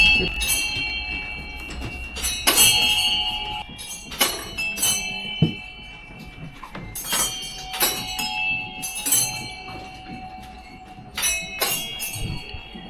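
A bell struck repeatedly by a stick attached to a spinning giant prayer wheel at a Buddhist site, ringing clear, resonant tones at irregular intervals, each chime decaying before the next, with faint background voices.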